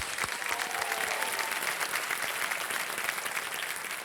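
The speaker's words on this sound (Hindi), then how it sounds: "अपूर्वा जी, तालियों के साथ इनका स्वागत किया जाए" Studio audience on a quiz show clapping to welcome a contestant named Apoorva: a steady, moderately distant wash of applause lasting a few seconds, with a faint tonal sweep early on and no talking.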